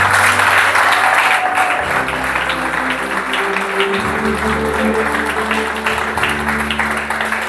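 Church congregation applauding and cheering for Jesus during a sermon, a loud, sustained wash of clapping and shouting with sustained musical tones underneath, continuous from start to finish.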